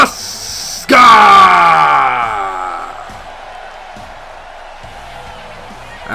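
A large arena crowd in a WWE wrestling video game roars for Asuka's entrance, a loud swell of cheering with a ringing tone that slowly fades into a lower murmur.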